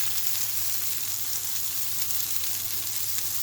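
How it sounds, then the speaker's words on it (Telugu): Chicken shami kababs fry in a pan with a steady, dense sizzle that crackles evenly throughout, close and moderately loud over a low hum, with no voices. "మంచిగా టర్న్ చేసుకొని మంచిగా 5 నిమిషాలు వేగనివ్వాలి"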